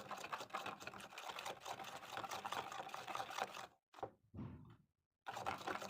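Plaster of Paris being stirred with water in a cup, a rapid, close scraping and sloshing rhythm that runs continuously, then pauses twice into near silence before resuming.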